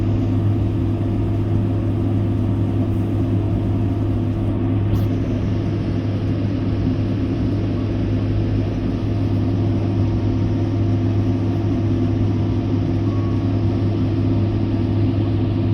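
A steady, droning engine hum of a tractor pulling a silage trailer on a farm field, constant and fairly loud throughout.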